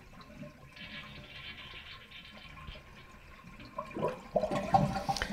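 Water draining and trickling from a Kohler Wellworth 4512 toilet tank, a low steady rush that swells into louder gurgling and splashing near the end.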